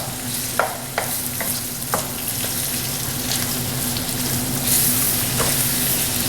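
Shrimp frying in bacon grease for Southern-style shrimp and grits sizzle loudly and steadily up close, with several quick clacking tosses of the pan early on and the hiss swelling slightly later.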